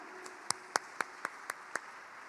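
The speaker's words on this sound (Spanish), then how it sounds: "fuerte el aplauso para estas dos entregas maravillosas para el Padre Martín" Sparse, evenly spaced hand claps, about seven sharp claps at a steady rhythm, moderately close, honoring two gifts at a faith gala concert, with no talk over them.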